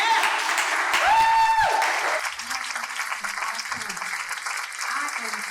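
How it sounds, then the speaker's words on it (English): An audience at a talk-show style event gives a sustained round of applause for a guest, a steady wash of clapping with a brief whistle-like tone rising through it early on. "let's give her an amazing round hand clap of applause right now"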